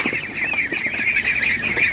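A goose at an animal market honks repeatedly and loudly up close, harsh nasal calls running continuously with no talking.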